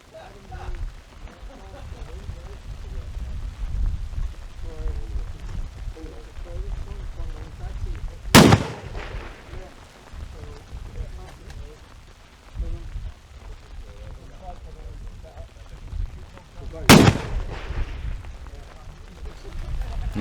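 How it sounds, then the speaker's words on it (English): Two loud, sharp precision rifle shots fired from a rest on a tripod, about eight seconds apart, at an outdoor match in the Welsh Mountains, each with a brief echoing tail over steady rain and wind noise. "with his rifle rested on a bipod, on a tripod, James prepares to take his 10 shots"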